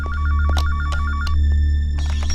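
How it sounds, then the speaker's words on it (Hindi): A telephone rings with a steady repeating electronic trill, loud and close, in a tense Bollywood thriller scene, with no talk over it. "बजने दो। फोन कट जाएगा।"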